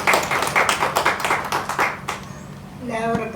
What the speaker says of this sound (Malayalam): I want all of you to give that applause